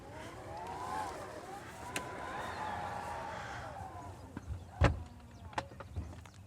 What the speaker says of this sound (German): Und dann schließt sich die Tür auch ganz normal wieder.